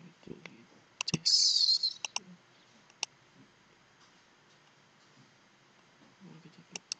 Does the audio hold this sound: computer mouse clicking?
yes